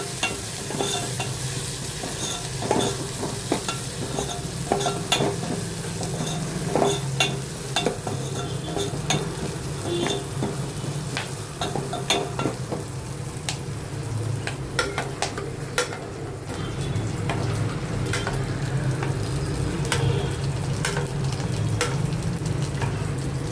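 Steady sizzling of a tempering in oil in a pan with frequent scraping and stirring strokes, close up and continuous, no voices.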